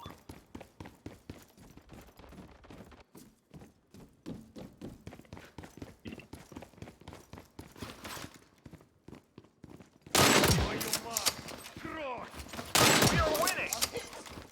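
Video game gunfire with rapid, steady shots firing throughout. The fire turns much louder and denser in the final seconds, and a voice shouts over it.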